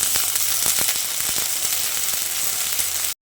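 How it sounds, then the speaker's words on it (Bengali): Ginger and garlic paste sizzles in hot oil in a pan, a steady, close, continuous frying hiss with faint crackles, with no voices over it. "আর আদা ও রসুনের পেস্টটা দিয়ে কিছুক্ষণ ভেজে নেব"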